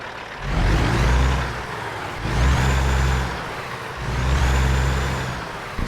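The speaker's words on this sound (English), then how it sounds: "Sounds like one of those low RPM trucks." A heavy truck engine in American Truck Simulator, a Scot A2HD mod, rumbles at low revs, its deep drone swelling and easing in three slow waves with no talking.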